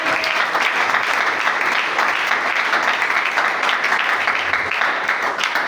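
A church congregation applauding in praise during a Sunday service, dense sustained clapping from many people, loud and unbroken throughout.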